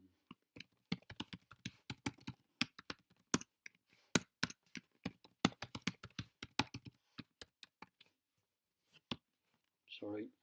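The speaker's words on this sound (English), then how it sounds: "let's type that again" Quick bursts of keystrokes on a computer keyboard, irregular and close, pausing briefly between runs, with a short murmur of voice at the end.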